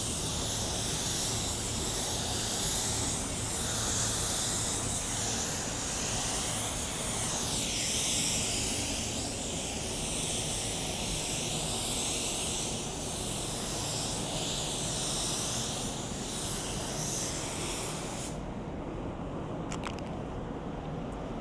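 Broad, steady hiss of a paint spray gun applying a color blend to a car body, running continuously and fairly close, then cutting off near the end.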